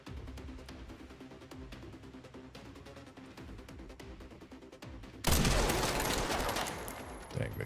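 Enemy gunfire aimed at the player in Resident Evil Requiem, a rapid crackle of shots running under game sounds, then a louder burst near the end.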